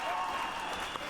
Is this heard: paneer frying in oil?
no